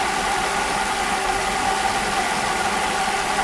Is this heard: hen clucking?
no